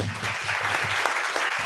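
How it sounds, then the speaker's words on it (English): Brief round of applause from an audience at a robotics awards ceremony, dense steady clapping that stays loud and even for the short burst. "So one round of applause."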